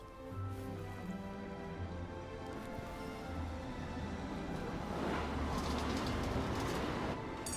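A tram arriving in Syberia: The World Before, a steady rumbling rail roll with low tonal hums and a brief rise of brighter clatter toward the end, loud and continuous with no speech.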